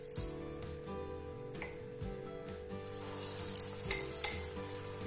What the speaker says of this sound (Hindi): ये देखो, ये कढ़ाई के अंदर डालने के बाद फूल जा रहे हैं, थोड़ा बड़े हो जा रहे हैं।